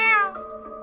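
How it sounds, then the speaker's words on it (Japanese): A single short cat meow in a video game, clear and close, sliding downward in pitch and trailing off within a second, with no voices over it. "あ、猫だ。"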